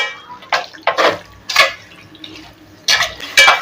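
Chicken is stirred into masala in a cooking pan, giving several separate wet scraping and sloshing strokes, close and fairly loud, with short pauses between them.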